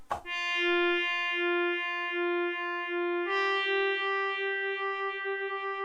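A sustained Minifreak synthesizer tone with a steady harmonic stack, its timbre pulsing rapidly in a fast, regular wobble from a sped-up LFO, shifting pitch once partway through.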